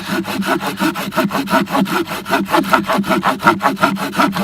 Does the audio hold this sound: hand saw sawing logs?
yes